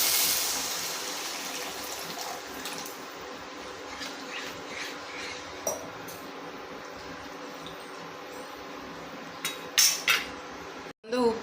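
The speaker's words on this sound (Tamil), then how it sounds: "இப்போ வந்து நான் ஒரு ரெண்டு டம்ளர் தண்ணி ஊற்றிடலாம்" Water poured from a tumbler into a cooking pot for masala oats: a gushing pour at the start that fades, then quiet kitchen background with a few utensil clinks near the end.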